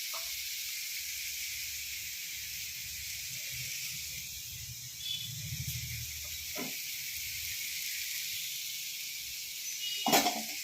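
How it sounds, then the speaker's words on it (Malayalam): Chopped coconut pieces roast in a pan for apple payasam, giving a faint steady hiss and low sizzle. A couple of sharper clinks or stirs break through near the middle and at the end. "തേങ്ങായും കൊത്തി വറുത്തെടുക്കാം"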